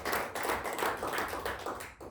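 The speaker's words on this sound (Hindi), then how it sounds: "मैं चाहूंगा संजू सर के लिए एक बार दिल से तालियां" A crowd claps for a speaker at a business talk, with dense, steady applause carrying close and fairly loud for a couple of seconds before tapering at the end.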